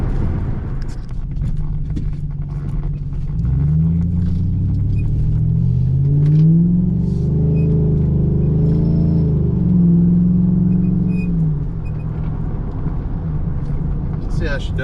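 A 2007 Chevrolet Silverado with a 4.8 V8 and bolt-on mods, loud and close, its steady rumble swelling into a sustained rev at wide open throttle midway through, then settling back, with talking over parts of it.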